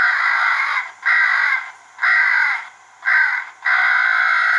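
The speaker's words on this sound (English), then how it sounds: "the next one is a crow in distress" Crow distress calls played through an Icotec predator caller, four loud, rasping caw bursts in a steady rhythm with short gaps, close and clear with no talk.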